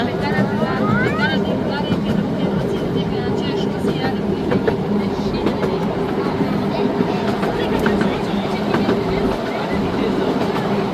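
A train runs through woodland at Ruislip Lido in the UK, a loud continuous rumble with clattering wheels and a brief rising squeal near the start, heard close throughout while someone talks over it.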